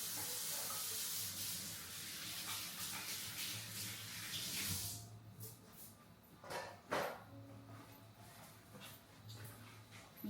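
Tap water runs steadily into a sink while a spoon is washed, a close, even rushing stream. The flow cuts off about halfway, leaving a few splashes and drips in the quieter room.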